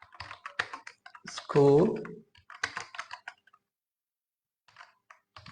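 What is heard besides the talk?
typing on a computer keyboard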